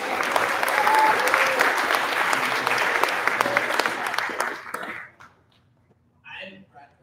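An audience in a hall at an awards ceremony applauds loudly for roughly five seconds, then stops abruptly, leaving near silence broken by a brief voice.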